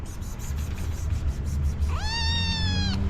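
A cat meows once, a clear rising-then-level cry of about a second, close by over a low background rumble, in a café setting in Karakol, Kyrgyzstan.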